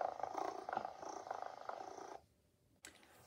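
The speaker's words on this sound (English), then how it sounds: "you get that wagging tail" A Moose Toys Little Live Cuddles toy kitten purrs steadily and close, a soft continuous electronic rumble that runs for about two seconds, stops abruptly, and briefly resumes near the end.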